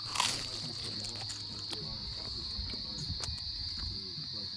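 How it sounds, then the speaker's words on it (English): Someone bites into hot food from a 12-volt air fryer, and a few crisp crunches come up close over a steady high hiss, while voices murmur nearby. "Oh, listen to the crunch."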